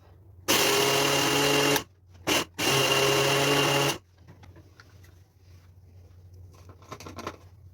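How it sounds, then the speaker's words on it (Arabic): A Tornado blender's grinder attachment grinds sugar in loud, close whirring bursts: a long run, a brief blip, then another long run before it stops and quiet handling noises follow. "طيب عايزين بقى نجرب المطحنه. هنجربها في السكر."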